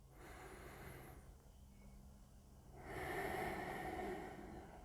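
A yoga student draws slow breaths during a class twist, a soft exhale fading, then a quiet pause, then a fuller, louder breath rising near the end, close and with no talking.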